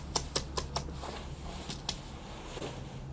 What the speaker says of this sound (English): cats are walking on keyboards again